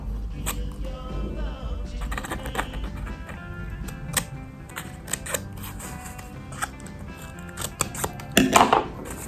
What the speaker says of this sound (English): we cut along these folds here